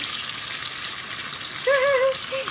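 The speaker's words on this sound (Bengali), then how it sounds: "বাহ, তেলটা মনে হচ্ছে খুব ভালোই গরম হয়েছে, মাছগুলো চটপট চটপট করে হয়ে যাচ্ছে।" Hilsa fish pieces fry in hot oil with a steady close hiss. A short high pitched tone rises above the sizzle near the end.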